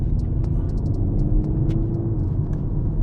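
A 310-horsepower BMW M135i M Sport, a Cat N salvage car, is driven. Its engine and road noise make a steady, loud, low rumble throughout.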